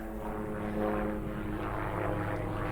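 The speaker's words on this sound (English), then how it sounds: "There's a helicopter." Helicopter flying overhead, a steady throbbing engine and rotor drone that holds loud and continuous with a low pulsing hum throughout; no talking.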